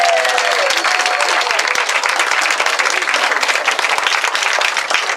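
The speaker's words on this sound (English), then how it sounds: "if we can have a round of applause for those girls" Wedding guests at a dinner give a loud, sustained round of applause, dense overlapping claps from a full room that carry on without pause.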